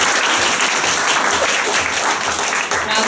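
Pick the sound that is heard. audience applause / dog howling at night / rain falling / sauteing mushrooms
audience applause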